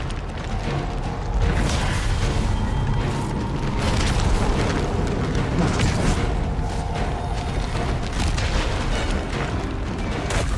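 Monster's overhead slam attacks in Resident Evil 4, heavy booming impacts and crunching game effects repeating over a dense, loud background, with no talk.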